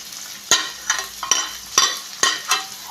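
Three medium onions, thinly sliced, frying in a pan for a Kerala-style chicken parts curry: a close, steady sizzle punctuated by sharp rhythmic stirring scrapes roughly every half second.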